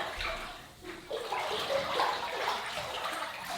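Water runs steadily from a tap into a bathtub where clay is being mixed for a magnesium bath, a continuous close gush that briefly dips and then resumes.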